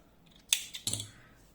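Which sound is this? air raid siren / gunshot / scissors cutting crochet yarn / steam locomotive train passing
scissors cutting crochet yarn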